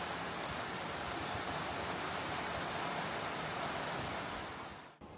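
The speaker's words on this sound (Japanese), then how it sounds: "もう宿に着いた途端に大雨。" Heavy downpour during a thunderstorm in Ithaca, New York, a dense, steady roar of rain that fills the whole clip at high level with no voices, cutting off abruptly at the very end.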